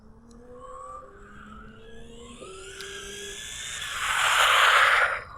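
WLToys 124018 RC buggy driven at full throttle across an empty parking lot, its whining electric motor rising in pitch as it speeds away, then a loud rough burst of tire and motor noise near the end.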